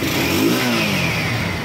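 Bajaj NS150 motorcycle with an aftermarket CDI revs steadily nearby, a continuous buzzing engine roar at fairly constant pitch with no talk over it.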